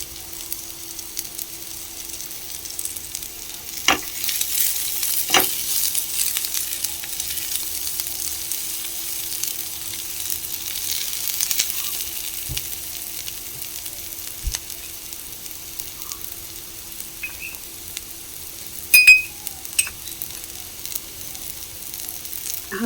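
Chopped onion and garlic frying in a pan, a soft continuous sizzle with occasional scraping clicks of stirring, steady and moderately quiet throughout.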